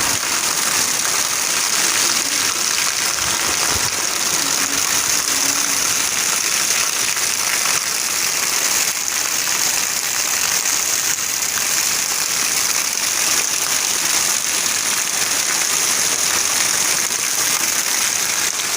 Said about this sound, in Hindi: आज बहावलपुर में तूफ़ानी बारिश आ रही है